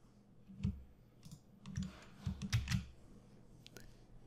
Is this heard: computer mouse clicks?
yes